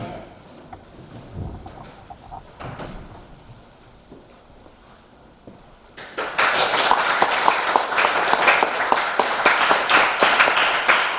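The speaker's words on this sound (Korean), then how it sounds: "우리에게 말씀을 전해주실 황은중 선교사님을 환영하며 강단에 오를 때 박수로 환영해 주시기를 바랍니다." A church congregation breaks into loud, sustained applause during a Sunday worship service as a missionary steps up to the pulpit, dense clapping filling the room after a few quieter seconds.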